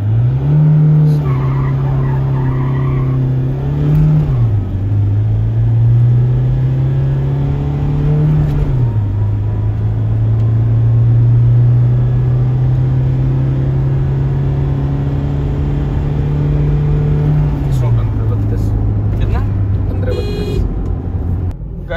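A 2014 Toyota Innova pulls hard through a 0-100 acceleration run, its engine drone loud and steady, climbing in pitch through each gear and dropping sharply at every shift, about four changes over the run.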